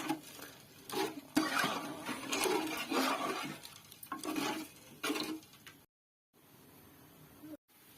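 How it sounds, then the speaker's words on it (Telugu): Fish pieces going into a pan for curry, with soft intermittent sizzling, clinks and stirring bursts, then a quieter stretch with a brief gap. "ఇప్పుడైతే చేప ముక్కలు వేసుకుంటున్నాను"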